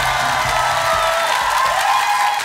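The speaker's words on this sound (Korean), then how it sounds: "박수!" Studio audience at a Korean comedy show bursting into loud, dense applause mixed with cheering and whoops, a continuous roar of clapping and shouting close by that holds steady throughout.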